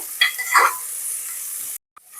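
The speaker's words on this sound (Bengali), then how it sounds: "এবার পেঁয়াজটাকেও ভেজে নেব।" Chopped onions frying in a pan for a Punjabi-style mutton curry, a steady sizzle with a couple of louder stirring scrapes near the start, cutting off abruptly near the end.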